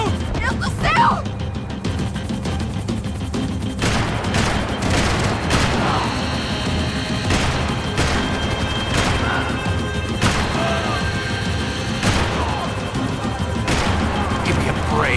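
Gunfire in the video game Max Payne 3 comes as sharp, repeated shots and cracks scattered across a tense scene. The shots are mixed with crashes and rumbling action, and voices shout over parts of it.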